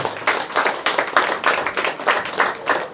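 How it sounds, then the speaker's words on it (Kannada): Loud, rhythmic applause from a crowd of pyramid masters at a pyramid opening ceremony in Ballari, with dense, steady clapping that holds throughout. "ಜೋರಾಗಿ ಚಪ್ಪಾಳೆ ಮಾಸ್ಟರ್ಸ್."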